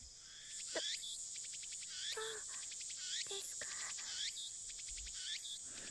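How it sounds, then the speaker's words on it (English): Cicadas chirping in the visual novel game Steins;Gate, dense rhythmic pulses, a high continuous buzz with repeated bursts of rapid clicking trills, no talking. "The only sound of the chirping cicadas."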